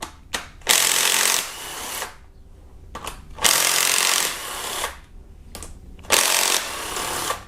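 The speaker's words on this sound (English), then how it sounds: "we're going to start with the very left camshaft cap here with a 12mm socket" A tool works on a camshaft cap bolt of a Kia Optima engine fitted with a 12mm socket. Three loud bursts of roughly a second each are heard close up, separated by short pauses, with no talking.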